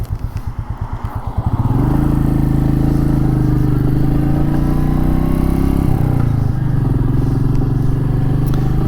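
A Royal Enfield Meteor 350 motorcycle ticks over briefly, then pulls away with a loud, steady single-cylinder thrum that holds as it rides, dipping slightly as it shifts near the end; no talking.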